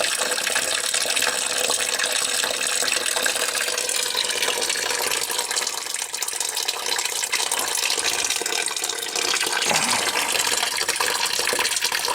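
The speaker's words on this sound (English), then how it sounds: "gurgle" Water rushes and gurgles through household plumbing as the pipes are winterized, a loud, continuous hissing flow that barely changes over the whole stretch, with no voices.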